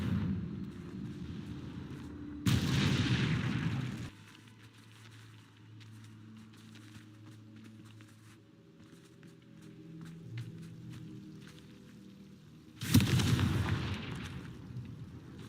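Two heavy booming explosions from the Confringo spell in a video game, each a loud broadband roar lasting over a second, separated by quieter game ambience with low tonal hums.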